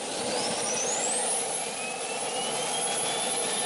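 Rolls-Royce Allison turbine engine of an MTT Y2K jet superbike whines loudly and steadily, a broad roaring hiss with a rising high-pitched turbine tone sweeping upward, continuous throughout with no voices.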